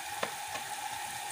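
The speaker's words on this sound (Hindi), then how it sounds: "थोड़ा भून लेंगे।" Cauliflower fries in oil with turmeric and salt, a steady close sizzle with a couple of brief stirring scrapes over it.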